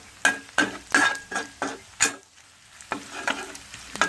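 Garlic stir-fried in a pan for Thai pad kaprao, with a run of sharp scraping stirs over a soft sizzle, about a dozen strokes with a brief pause midway, close and fairly quiet.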